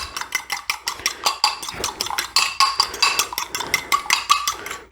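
An egg being lightly mixed in a bowl, a quick steady run of small clicking, tapping strokes against the bowl's sides, close and alone without talk.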